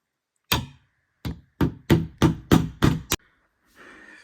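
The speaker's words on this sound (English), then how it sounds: "so I'm gonna have to use a hammer" A hammer knocks a metal tab into an IKEA KOMPLEMENT pull-out tray with seven sharp, close blows, spaced at first and then in quicker succession, each a hard woody thunk followed by silence.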